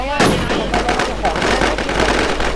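Rapid bursts of gunfire crackle loudly and close in the video game Infestation, mixed with game effects and a voice talking over them.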